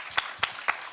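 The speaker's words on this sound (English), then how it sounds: "that definitely deserves a round of applause" At a conference panel session, a few distinct handclaps sound at a steady pace over a soft background hum, fairly close and moderately loud.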